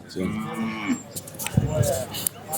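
A cow moos at a busy outdoor cattle market, one low drawn-out call near the start followed by shorter lowing amid crowd chatter and clatter.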